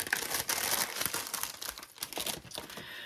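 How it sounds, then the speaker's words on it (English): Close, crisp crinkling and rustling of a small plastic bag of hardware, busy and continuous for a few seconds, with no talking. "Sorry about the rustling."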